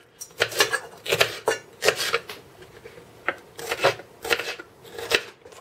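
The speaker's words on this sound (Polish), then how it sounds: "w międzyczasie mogę sobie pokroić tą cebulkę" A knife chops an onion into small cubes on a cutting board for meat-stuffed peppers baked in tomato sauce, giving a run of crisp, close chopping strokes in uneven bursts with short pauses between them.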